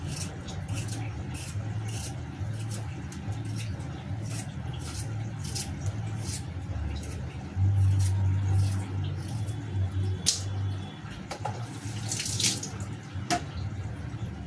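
Water runs from a nearby tap onto a cut potato being washed in a home kitchen, a steady close stream with a surge of heavier flow midway and scattered clicks and splashes.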